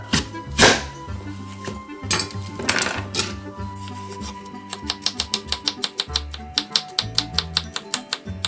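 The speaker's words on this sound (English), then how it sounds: "We're going to cut them into fairly small dice, but we don't want the skin." A kitchen knife dicing peeled apples into small cubes on a board: scattered thunks and scrapes give way to a fast, steady run of crisp chopping knocks, close and clear.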